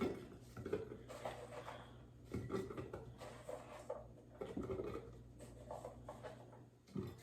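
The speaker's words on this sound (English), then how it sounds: "I'm just gonna dump it in here, throw it all in, and that way I can mix it as I put it" Chopped hot peppers dumped and mixed in a container for fermenting, making soft rattling, scraping and patter sounds as pieces fall and shift, close but fairly quiet, in uneven bursts.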